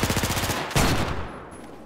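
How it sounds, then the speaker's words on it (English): A pistol firing on full auto in Battlefield 4: a short, rapid burst of shots lasts about half a second, then one louder report follows and fades out. "My gun went from single to auto."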